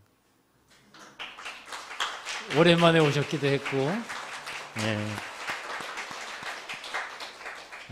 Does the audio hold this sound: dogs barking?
no